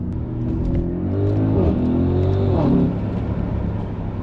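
Audi SQ7 engine revving hard on a downshift, a loud, close rumble that climbs and blips sharply before settling back into a steady drone.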